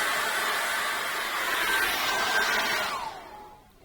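A hair dryer blows steadily while drying acrylic paint, a constant whooshing hiss with a faint whine, then winds down and cuts off near the end.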